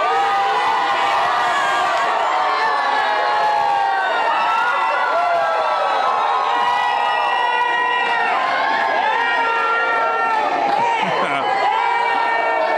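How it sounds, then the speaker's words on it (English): A rowdy, excited crowd gathered at a cinema for a Fiesta weather-medal giveaway cheers, whoops and shouts continuously, loud and close, a mix of adult and children's voices. "Oh, we've got a rowdy crowd here."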